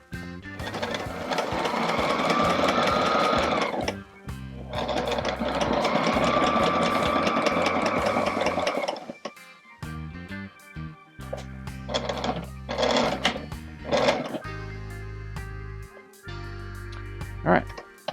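A Sailrite sewing machine stitches through a hatch cover in two long, steady runs of rapid needle clatter, then gives short stop-start bursts with pauses between them.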